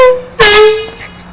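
A loud air horn gives a short, piercing blast, rich in harmonics, that surges in mid-clip and then fades away.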